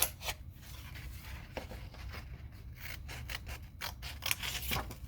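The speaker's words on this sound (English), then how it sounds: "I'm just cutting this out with a pair of scissors" Quiet, repeated snipping and rustling of paper being cut, steady crisp strokes close to the ear with no talking.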